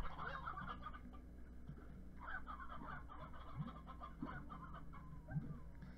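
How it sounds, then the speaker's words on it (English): Hens cluck repeatedly in the video game Slime Rancher, a soft, scattered series of short fowl calls over a low steady background hum, with no talking. "More old hens."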